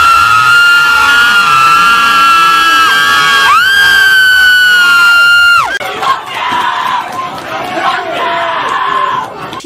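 Crowd of protesters screeching and shouting, loud and sustained with piercing high wails and yells overlapping, then shifting to a rougher, more scattered clamor of voices toward the end.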